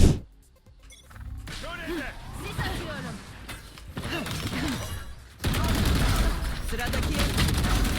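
Sustained rapid automatic fire from an Ares machine gun in Valorant, a dense continuous burst that grows louder in the last few seconds, with someone talking over earlier game sounds.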